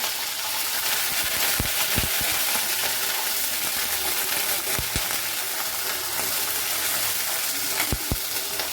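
Green peas cooking in a pan over a lowered flame, a steady close sizzle with a few sharp scrapes and clicks from stirring scattered through it.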